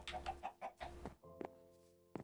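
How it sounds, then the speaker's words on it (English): Game chickens in a Minecraft Legacy Console world cluck in a quick run of short, bright calls, followed after a pause by one or two more isolated clucks, fairly close and moderately loud with no talking. "I guess we just have chickens in there"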